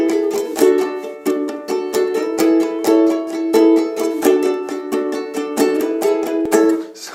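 A ukulele plays a cool strumming loop with alternating chords from a beginner tutorial, in steady, rhythmic strums that are close and loud and go on throughout without any talking.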